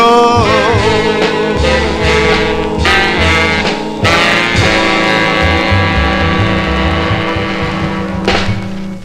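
A doo-wop song, with a lead singer, playing loudly from a scratchy 1955 VJ 45 record: lead vocal and backing harmonies over a steady band, with surface noise running underneath.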